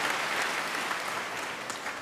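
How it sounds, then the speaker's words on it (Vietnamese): A congregation at an Easter Vigil Mass claps in a dense, steady burst of applause filling the short stretch with no voices on top. "xin chúng ta chúc mừng tất cả anh chị em một tràng pháo tay thật lớn"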